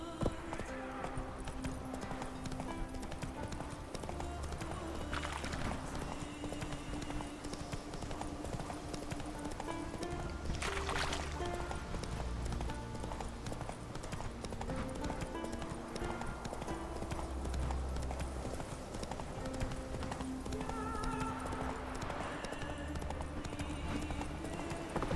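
Roach, the horse in The Witcher 3, trotting on auto-run with a continuous rhythmic clip-clop of hooves, mid-distance and steady, under game music and ambient noise with occasional brief louder scrapes.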